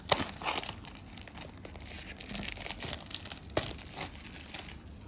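Scissors cut through the cardboard and plastic packaging of a Zeblaze Vibe 3 GPS smartwatch box, giving steady close crinkling and tearing with a few sharper snips over about five seconds.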